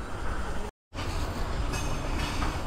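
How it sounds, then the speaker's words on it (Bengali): A freight train rolls past a railway level-crossing gate near Joychandi station in Purulia, a loud continuous rumble of wagons and wheels with a brief dropout, no voices. "মালগাড়ি ক্রস করছে"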